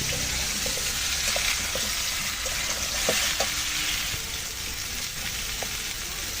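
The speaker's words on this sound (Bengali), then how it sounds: "কাঁকড়ার সাথে আলু দিয়ে কিন্তু সুন্দর করে ভেজে নিলাম। এখন দিয়ে দিচ্ছি এই কুচিগুলো।" Chopped vegetables go into a pan where crab and potatoes are frying, bringing a loud continuous sizzle with wet crackling and small clinks, steady and close, no talking.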